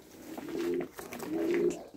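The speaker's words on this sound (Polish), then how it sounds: "Tu wam przedstawiam gołąbki, przepiękne gołębie, tutaj macie z Jansenów." Janssen-line racing pigeons coo in two drawn-out, low throaty calls separated by a brief pause, moderately close with no talking.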